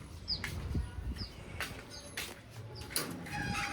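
Pigeons coo softly inside a loft on an overcast day, a few faint low calls scattered among quiet rustles and brief chirps.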